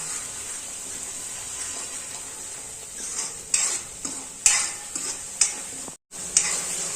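Chunks of elephant foot yam (suran) tossed in hot oil with washed spice masala, giving a steady sizzle broken by several sharp scraping stirs of a spatula against the pan, close and continuous with no talking.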